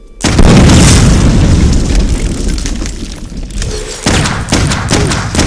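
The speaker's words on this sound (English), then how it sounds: "Just in case someone decides to fire dynamite at me." Loud booming blast from dynamite in the horror video game Clive Barker's Undying, a sustained rumbling burst that fills the clip, with a further thump and crackle near the end.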